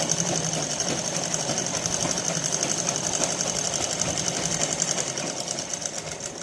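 Sewing machine stitching a hook strip on a four-tuck blouse, a steady close rapid mechanical whir running without pause and with no talking.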